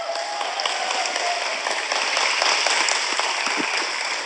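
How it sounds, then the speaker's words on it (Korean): A church congregation applauds, a steady dense wash of hand clapping filling the room evenly for several seconds, moderately loud with no voices standing out. "큰 박수 부탁드립니다"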